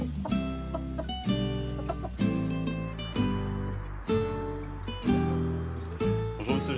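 Chickens in a quiet village street in Sens-sur-Seille, Saône-et-Loire, giving close, repeated clucking calls roughly once a second in a steady rhythm.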